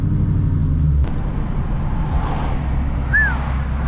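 A Dodge Charger Hellcat's engine rumbles low and heavy for the first second, then fades into a softer, wind-buffeted drone as the car pulls away.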